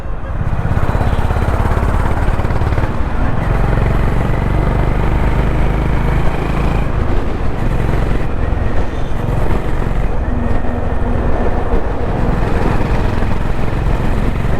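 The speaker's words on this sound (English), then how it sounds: "It's a pleasure to ride this bike in the city, guys." A Honda CB350 Highness motorcycle engine rumbles steadily through city streets at night, a loud continuous low drone mixed with wind rush from the moving ride, with no clear pauses.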